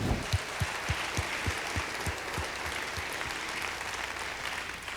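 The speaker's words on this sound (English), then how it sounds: "Let's please give her a round of applause." A lecture audience gives a round of applause, a broad steady wash of clapping with a few louder, regular hand claps standing out near the front, fading slightly toward the end.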